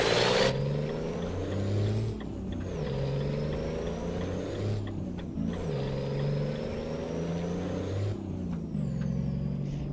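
Ford Cargo truck in Euro Truck Simulator Brasil drives steadily with its engine droning and shifting pitch, while air brakes hiss in short bursts a few times; no talking.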